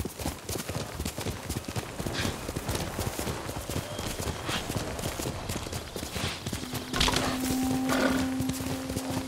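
Steady clip-clop of galloping horse hooves pounds in a quick rhythm, with a faint tone and background noise rising near the end, in the video game Ghost of Tsushima.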